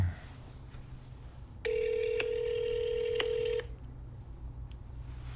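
A telephone rings in a video being played back, a single sustained electronic ring tone of about two seconds, fairly clear against a quiet background.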